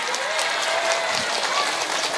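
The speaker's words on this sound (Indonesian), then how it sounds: "Tepuk tangan dulu dong" A group of women in a village claps together in a brief, dense burst that carries over a noisy outdoor background.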